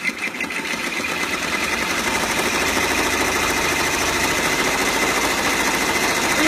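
An embroidery machine stitches out a design on a freezer pop cover, a loud, continuous rapid rattling hum that holds steady throughout, close and with no talking.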